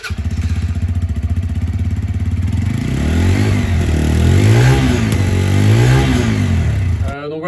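A Brixton Rayburn 125 motorcycle engine idles with a rapid, even putter, then revs up and down in several rising and falling swells before cutting off, loud and close.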